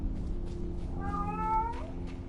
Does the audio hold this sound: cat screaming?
yes